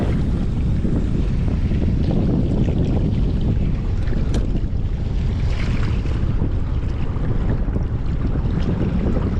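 Strong wind buffets the microphone on the Mississippi River during catfish fishing, a loud continuous roar and rumble with no break and no voices.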